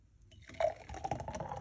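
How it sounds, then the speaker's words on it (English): Blended cucumber, pineapple and ginger juice pouring from a blender jar, a short wet splashing stream that starts partway in and runs steadily to the end, close and moderately loud. "Pour it out like this."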